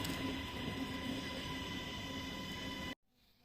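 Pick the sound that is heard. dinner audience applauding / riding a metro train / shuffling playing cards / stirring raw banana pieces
riding a metro train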